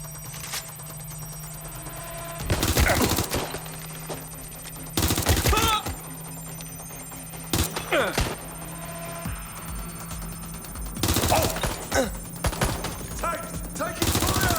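In the video game Watch Dogs Legion, bursts of automatic gunfire come in several loud, dense clusters separated by quieter stretches with a constant low electronic hum.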